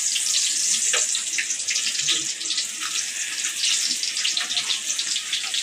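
Onions hit hot oil for a drumstick chicken curry and set off a loud, steady, hissing sizzle that runs unbroken throughout, with no talking over it.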